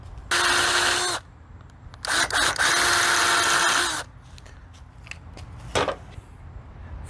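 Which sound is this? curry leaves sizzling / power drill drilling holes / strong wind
power drill drilling holes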